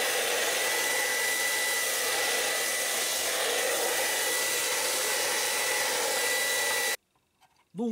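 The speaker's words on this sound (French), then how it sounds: "un petit coup d'aspi après la session de flocage s'impose" A vacuum cleaner runs continuously at close range, cleaning a workbench in a workshop after a flocking session, a loud steady broadband rush that cuts off abruptly near the end.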